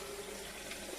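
Steady running water splashing into a pan, a continuous soft gush with no voices.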